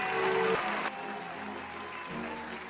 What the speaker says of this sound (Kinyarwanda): Bamwakirije amashyi n'induru nyinshi bigaragaza ibyishimo.